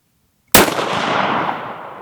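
A single loud, close rifle shot from a Ruger American in 6.5 Creedmoor fitted with a muzzle brake, a sharp crack after silence followed by a long rolling blast that fades slowly.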